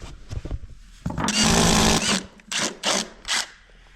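A power drill bores a hole through a wall for in-wall speaker wiring. A sustained whine lasts nearly a second, followed by three shorter bursts as the bit pushes through, close and loud with no talking.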